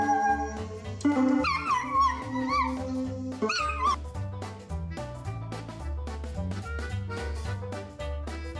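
A dog howls and yips in a wavering, song-like wail for a few seconds, then gives way to steady rhythmic music with a thumping beat, the howl fairly close and clear.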